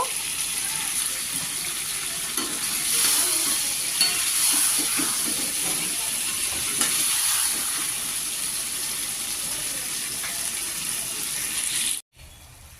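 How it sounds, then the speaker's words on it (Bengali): Eggplant frying with spices in a pan for a Bengali begun kalia, a constant loud hiss and crackle of hot oil with faint scraping underneath, cutting out abruptly near the end. "আমি 5 মিনিট ভাজা ভাজা করে নেব।"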